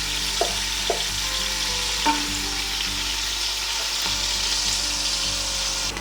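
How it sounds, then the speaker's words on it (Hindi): Onions sizzle steadily in hot oil as they fry to light brown for a masoor dal tadka, with a constant crackling hiss and a few faint utensil taps from stirring. "प्याज़ों को हमने लाइट सा ब्राउन करना है"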